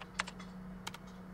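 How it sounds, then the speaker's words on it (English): Faint, quick keyboard tapping in the Chaos;Child game, a few soft clicks in a short burst over a low steady hum. "Kunisato tapped at a keyboard and the screen changed."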